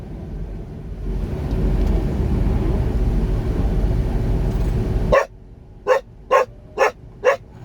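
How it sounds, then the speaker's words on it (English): After a long rumble of passing traffic cuts off, a dog barks five times in an even rhythm, loud and close. "he starts barking at me."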